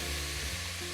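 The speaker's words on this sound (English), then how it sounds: "our sausage is browning a little bit here, just releasing a little bit of the fat that's in there" Sausage browning in a pan for Polish cabbage and sausage soup, its fat rendering out in a steady, dense sizzle that fills the moment close up and without pause.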